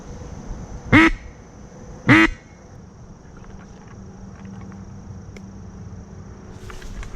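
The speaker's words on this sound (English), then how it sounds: "That was a hen mallard." Two loud quacks from a hen mallard duck about a second apart, then quiet outdoor ambience with faint distant calls during a duck hunt.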